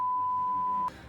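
A steady electronic beep from an FPV drone as its battery is plugged in, one sustained tone lasting nearly a second before cutting off into a brief click and low room noise.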